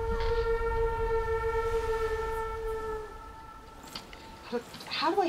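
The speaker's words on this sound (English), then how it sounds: "How do I even blow the horn through a mask?" A modded horn blown in the Skyrim video game during a shoreline walk gives a long, loud, steady tonal blast lasting about three seconds, then fades into quieter ambient sounds with a few brief louder bursts.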